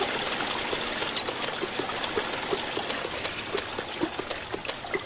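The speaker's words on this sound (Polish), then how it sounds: "Ma tam wodospad." Waterfall in the horror video game ObsCure 2, a steady rushing and splashing of water with small trickling drips, moderately quiet and continuous with no talk.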